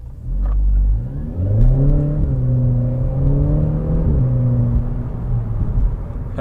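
A cold Skoda Fabia vRS engine, its exhaust middle section removed, idles and revs with a deep, throaty exhaust rumble, rising and settling close by without anyone speaking.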